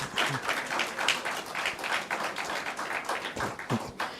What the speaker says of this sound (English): It's a round of applause, yes.